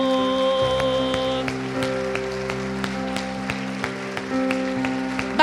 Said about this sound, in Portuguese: Se você pode, aplauda o Senhor.